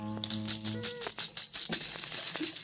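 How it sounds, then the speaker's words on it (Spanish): Tambourine in a 1970s children's party song: bright jingling shakes in a steady rhythm, with a low tone fading early beneath, clear and up front with no talking. "La pandereta suena así."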